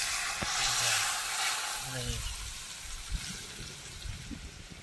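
Hot mustard oil poured onto mango kasundi gives a sudden close hiss and sizzle that is loudest at first and then fades into a softer crackle. Low indistinct sounds from the kitchen run underneath.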